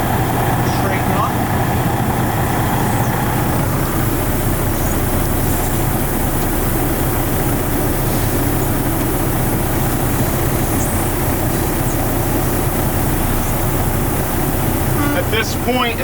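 A Class A CDL training truck backs straight between cones, its heavy diesel engine droning steadily and close at low revs throughout, with a voice talking over it.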